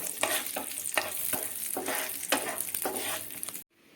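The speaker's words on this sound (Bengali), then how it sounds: "এখন আমি প্রথমে কাজু আর কিশমিশটাকে একটু ভেজে নেব" Cashews and raisins fry in ghee in a pan, a loud close sizzle broken by regular stirring scrapes for several seconds before the sound cuts off abruptly.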